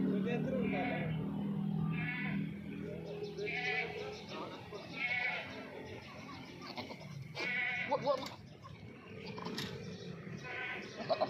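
A giant-sized black breeder billy goat bleats several times at a farm, its calls repeating at close range while people talk over and between them.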